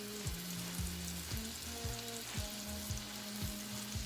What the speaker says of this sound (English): You can hear that sizzle. That's exactly what you want to hear.